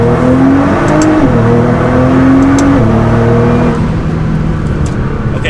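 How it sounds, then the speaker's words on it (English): Loud, close engine drone of a Nissan GT-R pulling in second gear from 30 mph, its pitch climbing in steps with a brief shift-like drop, heard from inside the car. "And then we'll slow down and do the second gear again. From 30 miles an hour."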